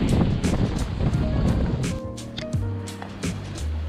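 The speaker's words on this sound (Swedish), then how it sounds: "Det blåser och det är mörkt." Strong wind gusting near 30 knots buffets a moored sailboat at night, with a broad roaring rush, bumps against the microphone and creaks and tonal groans from the boat's rigging and hull.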